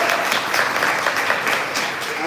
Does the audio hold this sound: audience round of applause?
yes